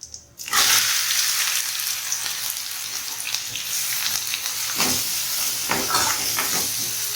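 Curry leaves and onion fry in hot oil with a loud, bright sizzle that bursts in suddenly, then hisses on steadily with a few stirring scrapes, close up with no talking.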